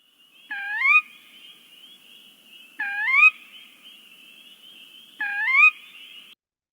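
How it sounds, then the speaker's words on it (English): A Sora rail gives its short rising two-note per-weep call, repeating three times at steady intervals, clear and fairly loud against a quiet background. "one of the more frequent calls that you're going to hear is probably the per weep"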